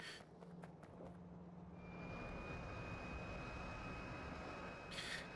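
Steady engine drone of a plane flying in the video game Factorio, a continuous mid-level hum with a thin high tone, rising slightly after a couple of seconds with faint clicks at the start and end.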